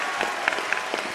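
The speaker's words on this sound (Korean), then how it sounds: "오늘 걱정 반, 기대 반으로 학교 왔을 정규 부회장 7명 후보자들에게 큰 박수 주시길 바랍니다." A school audience applauds seven vice-president candidates after a debate, a steady soft wash of many hands clapping at a distance.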